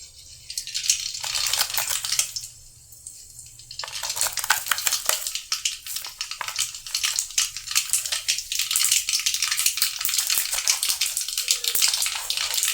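Mustard seeds crackle and pop in hot oil in a pan, a dense spatter of sharp little snaps that drops away briefly partway through, then returns louder and keeps going.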